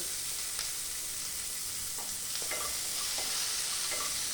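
Chopped green chillies fry in a pan with a constant soft hiss, faint and even, and a few light scrapes of stirring break through now and then.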